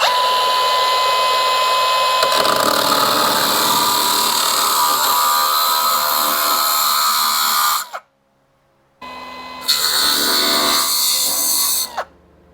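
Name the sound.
grinder with flat disc grinding rust off a Jeep TJ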